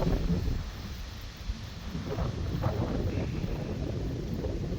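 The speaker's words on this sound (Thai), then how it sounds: "โชคดีมันลมพัดนะฮะ" Wind gusting across an open spot beside a railway line on a hot, sunny morning, a steady, loud rushing buffet that fills the whole stretch with no voices.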